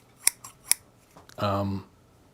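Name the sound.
scissors being handled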